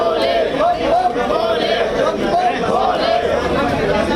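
A crowd of pilgrims chattering inside a bank, a dense murmur of many overlapping voices at close range, continuous and loud.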